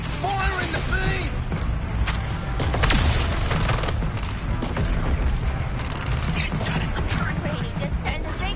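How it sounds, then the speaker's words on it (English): Brainiac's big gun fires its beam in the Suicide Squad game, a dense, continuous roar of gunfire and mechanical clatter with sharp bursts throughout, heard under voices talking. "It's firing the beam!"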